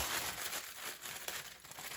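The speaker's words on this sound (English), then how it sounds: "Just take a little bit of tinfoil, crumple it up" Crinkly, bright crumpling of aluminum foil, continuous and close, with a few sharper crackles.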